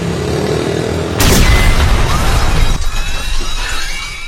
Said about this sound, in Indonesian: Bom meledak setelah Theo membeli segelas kopi di sebuah kedai.